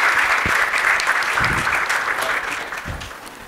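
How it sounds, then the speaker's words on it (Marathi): Loud, steady applause from an audience honoring teachers on stage, dense clapping that gradually tapers off toward the end. "प्रत्येक टीचरसाठी इथे आपण जोरदार टाळ्या वाजवल्या पाहिजेत"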